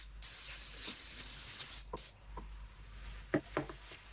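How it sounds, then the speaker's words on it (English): Brake cleaner sprayed from an aerosol can around a car's brake fluid reservoir cap, several short hissing bursts of varying length, fairly quiet and close. "Now I'm going to take brake clean and spray around"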